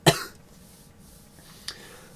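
A person lets out one sharp, loud cough, falls quiet, then gives a second, softer cough, with no talking.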